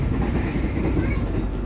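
Economy-class subsidized passenger train cars roll along the rails with a steady, dense low rumble and faint rhythmic clatter, heard from inside the carriage with no voices.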